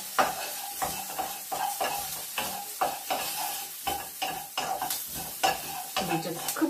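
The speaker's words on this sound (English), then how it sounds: "So now my onions are soft, so now I'm going to add my garlic." Roughly chopped garlic sizzling with softened onions in a pan, constantly stirred, with regular scraping strokes of a utensil against the pan over a steady close frying hiss.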